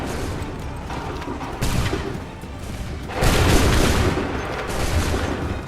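Musket volley fire in the game Assassin's Creed 3, a dense roar of overlapping shots that rises in bursts and swells loudest midway, booming and continuous, with no speech.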